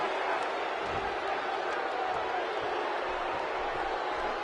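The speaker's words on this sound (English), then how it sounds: "And listen to this crowd." A roaring arena crowd in the WWE 2K17 wrestling video game cheers in a steady, dense wash, loud and continuous throughout with no clear breaks or individual voices standing out.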